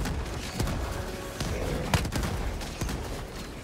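Bursts of video game gunfire, several sharp shots and short volleys scattered over a steady noisy background, with no talking.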